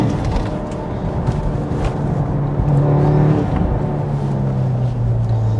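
A 500hp manual Volkswagen Golf R MK7.5 accelerating hard in gear, its engine note rising and droning loudly with a rising tone that climbs through the run, heard from inside the car without talk.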